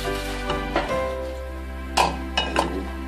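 A plate and a cooking pot clatter as an omelette is flipped, with a low steady hum underneath, then a few sharp metallic clinks and knocks close up.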